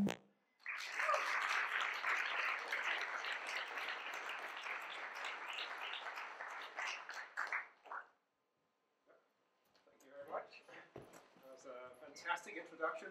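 Audience applause for a professor's science lecture at a cocktails event rolls in as a dense, steady clatter for several seconds, fades to silence, then a voice begins speaking at the lectern.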